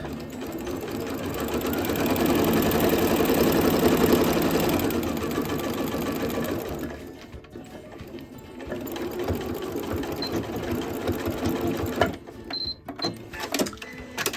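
Close, loud sewing machine stitching a scrappy lap quilt, a fast continuous whirring run that slows and quiets partway through, followed by slower intermittent stitching and a few sharp clicks near the end.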